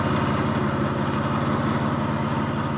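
A 1954 Harley-Davidson FH 750 motorcycle engine idles close by with a loud, steady, even low chug that never changes pace.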